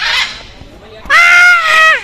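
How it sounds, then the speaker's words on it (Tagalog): Parrots screech at a bird sanctuary in Colombia, a loud harmonic cry rising after a fainter call, then holding about a second before tailing off, close and raw. "Iba yung tunog nila mga idol, oh. Parang nasigaw sila, oh. Mga parot, oh."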